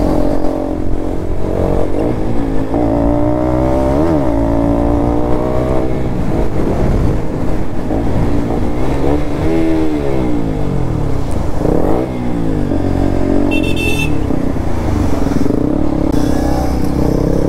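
Kawasaki Ninja and KTM RC sport motorcycles racing on a road near Shimla, engines revving and rising in pitch with repeated gear shifts, loud and continuous throughout.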